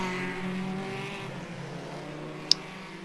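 Classic hot rod race cars lap a track, and their engines drone steadily at a distance in a low, even hum, with one brief sharp click near the end.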